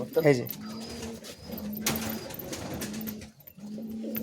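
Giribaz pigeons at a home loft coo in soft, repeated low phrases, close by, alongside a brief sharper call near the start and someone talking over them.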